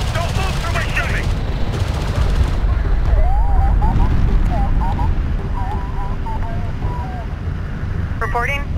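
Battle gunfire in Homeworld: Deserts of Kharak, a dense continuous roar of shooting and explosions, loud throughout, with radio-style voices talking over it.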